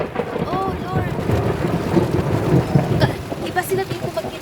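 Heavy rain pours steadily during a March thunderstorm in Kuwait, with deep thunder rolling beneath the downpour and a brief voice rising over the wash of water.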